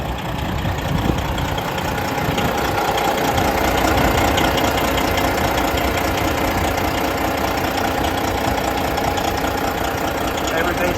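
A 2015 Peterbilt 389 glider kit day cab's pre-emission 12.7 diesel idles steadily with a rough, knocking rumble, close and continuous throughout.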